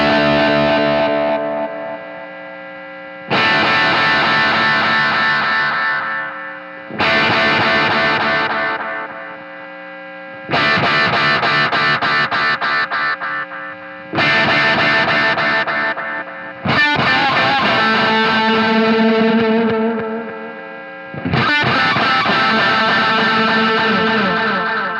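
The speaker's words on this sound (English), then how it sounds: "it adds more delay trails, kind of like that tape echo sound." Guitar played through a Wampler delay pedal set for tape echo flutter, with sustained distorted chords that ring out in separate phrases, each decaying into wavering, slightly warbling echo trails between gaps.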